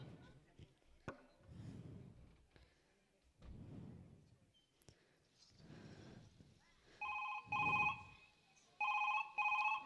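Telephone ringtone, a warbling electronic ring repeating in short bursts near the end, after stretches of talking with a few sharp knocks.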